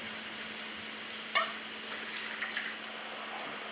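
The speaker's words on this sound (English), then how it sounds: "we're going to add 1 cup of white wine" White wine pours into a pan of steaming mussels, setting off a soft, steady sizzle and bubbling hiss with a brief splash at the pour, fairly faint and close, with no talking.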